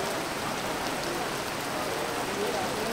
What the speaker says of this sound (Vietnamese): Mưa quá trời lớn mưa cô chú anh chị.